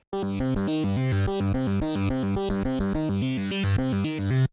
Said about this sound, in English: let's just solo that synth